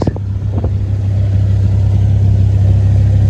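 Ford Focus ST225 engine running with a blowing exhaust gasket, a loud, steady low drone close by with a rough, puffing edge and a couple of brief knocks at the start.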